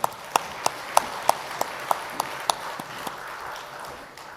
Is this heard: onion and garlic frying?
no